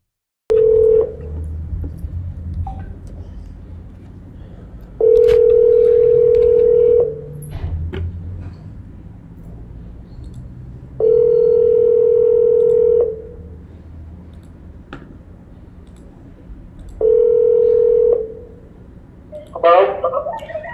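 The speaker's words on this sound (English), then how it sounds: "Let's listen to that phone call now." A telephone keypad dials out for a call, with four long, steady electronic tones spaced several seconds apart over faint background noise, and a brief scatter of shorter beeps at the end.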